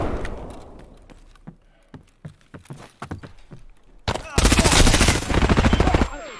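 Gunfire in the video game Escape From Tarkov: a series of sharp single shots and footstep-like knocks, then a loud, dense automatic burst that dominates the final two seconds.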